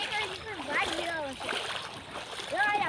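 Village river floodwater that broke through an embankment rushes and splashes steadily past houses in the background while voices talk over it.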